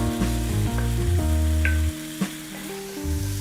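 Garlic frying in a pan for an Indonesian dish gives a constant hiss and crackle, with sustained tonal notes like background music running beneath it.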